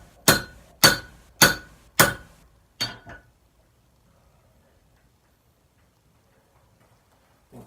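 Hammer blows on hot metal at a forge anvil: four sharp, ringing strikes in a steady rhythm, then two softer ones, followed by several seconds of near silence.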